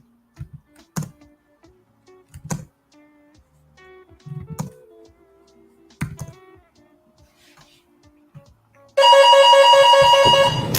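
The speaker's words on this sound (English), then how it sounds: "oh, the door's ringing" A few soft knocks and clicks in a quiet room, then an electronic chime starts ringing loudly and keeps going to the end.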